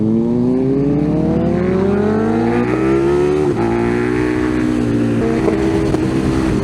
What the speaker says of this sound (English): The noise of the backfire out of Rich's bike is unbelievable.